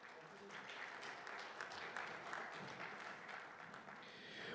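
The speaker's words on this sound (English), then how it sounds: "So big round of applause for yourself," A seminar crowd at a Mumbai skills and entrepreneurship event applauds, a faint, distant wash of many hands clapping that holds steady throughout.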